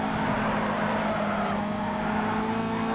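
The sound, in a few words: BMW M3 GTR engine and straight-cut gears, Need for Speed Underground 2 video game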